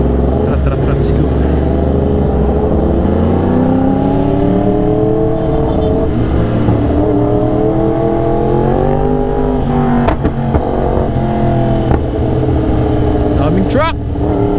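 Yamaha R1 sport motorcycle cruising a highway at night, a steady loud engine drone with gear-like pitch sweeps and brief rev spikes near the end, with voices talking over it throughout.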